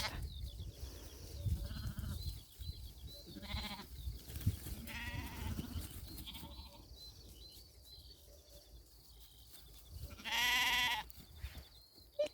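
Sheep bleat several times, some near and loud, others fainter, with one long strong bleat toward the end over a quiet outdoor background.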